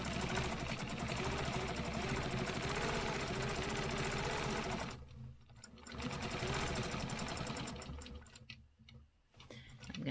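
A sewing machine stitches stencil lines, its needle running in a fast, steady mechanical whir up close, stopping briefly twice before starting again.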